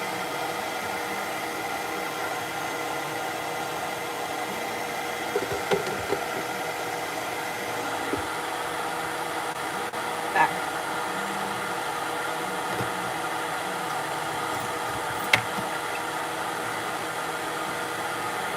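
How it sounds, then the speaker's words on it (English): A pet dryer blows steadily during a Maine Coon cat's bath, a continuous broadband whooshing roar with a faint motor hum, close and even throughout with only a few small clicks and no talking. "layer in the sound of the Feline dryer on top of this"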